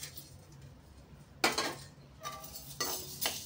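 Chana dal, urad dal and coriander seeds being stirred in a hot pan: a few distinct metallic scrapes and clinks of a spatula against the pan, fairly quiet, over a faint background hiss.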